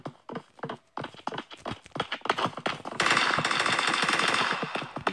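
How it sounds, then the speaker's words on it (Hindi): Rapid gunfire in a mobile shooting game, a fast stream of sharp, close cracks in quick succession, followed by a dense, sustained burst of automatic fire that fills the last seconds. "गोली चला तो रहे हो तुम"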